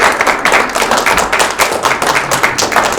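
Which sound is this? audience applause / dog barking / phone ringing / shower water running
audience applause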